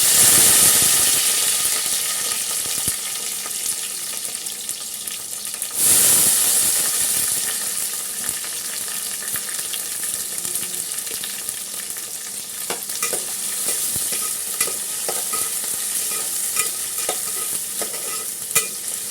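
Cardamom, cloves, cinnamon, pepper, onions, green chillies and curry leaves fry in hot oil, a steady close sizzle with bursts of hiss and stirring scrapes, loudest at the start and again briefly mid-way.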